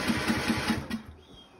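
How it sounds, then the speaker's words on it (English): A small tractor engine with a freshly repaired carburetor fuel solenoid cranks in a rapid, even rhythm for about a second, then stutters and trails off without catching. "the tractor should start now"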